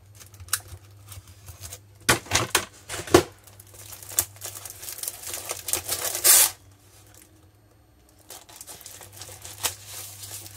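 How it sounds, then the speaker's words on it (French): A package of envelopes is opened and torn, giving crinkly tearing, rustling and crumpling bursts up close, with a steady low hum underneath and quieter handling toward the end. "Je vais ici ouvrir mon paquet d'enveloppes."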